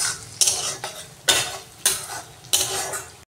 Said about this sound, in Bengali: কাঁচা লঙ্কা কুচি এর মধ্যে আমি দিয়ে দিলাম